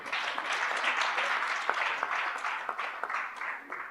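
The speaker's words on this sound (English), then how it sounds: "kindly let us give a good clap to these people." Audience clapping at a health project launch event, a sustained, fairly loud round of many hands, with scattered sharper individual claps standing out toward the end and no voices heard.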